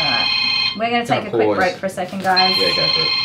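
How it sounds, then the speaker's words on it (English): A mobile phone rings with a steady, electronic tone that sounds at the start, pauses while people talk over it, then returns near the end. "What is that? That's my phone."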